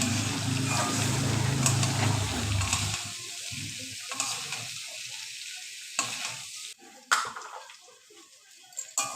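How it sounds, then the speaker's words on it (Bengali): Whole amla (Indian gooseberries) lightly frying in a pan for pickle, a steady sizzle with gentle stirring scrapes that drops away midway, leaving sporadic clinks and crackles. "ভালো করে হালকা ভাজা হবে আস্তে আস্তে করে নাড়তে হবে আমলকি যেন ঘেটে না যায়"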